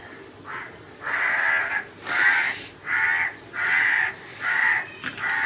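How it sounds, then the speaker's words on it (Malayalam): A crow caws five times in a steady series, each call loud, harsh and fairly near, heard alone without any voices in a kitchen setting while ghee-brushed dough is being shaped. "കാക്കണ്ട വിളിക്കുന്നു"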